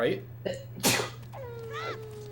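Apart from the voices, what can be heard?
sneeze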